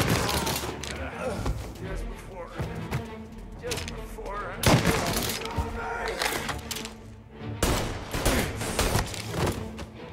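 Gunfire rattles through a bank robbery in the video game Mafia: Definitive Edition, with repeated sharp shots and bursts scattered over ten seconds, some loud and close, mixed with game sound effects and voices talking.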